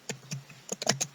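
Someone typing on a computer keyboard while entering a search in a browser: a few soft, close key clicks in an uneven rhythm, quiet and alone.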